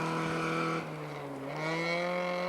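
A Toyota Corolla GTS rally car at the 1989 Rally of the Tall Pines, its engine droning loudly at high revs close by as it passes, with the pitch dipping briefly before climbing again.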